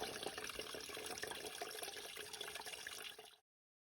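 Spring water from a small piped mountain spring on the Appalachian Trail runs steadily through a filter into a Smartwater bottle, a close, continuous trickle and splash lasting about three seconds before cutting off abruptly.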